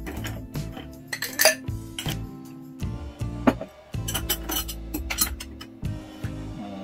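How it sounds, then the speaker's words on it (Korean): Ice cubes dropped one after another into a glass while building a gin and tonic, a string of hard, ringing clinks and clatters in uneven bursts, close and fairly clear with no talk over them. "우선 얼음을 먼저 채워 놓겠습니다"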